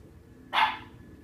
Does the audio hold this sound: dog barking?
yes